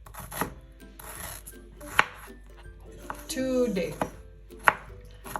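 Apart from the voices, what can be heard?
chopping ginger with a knife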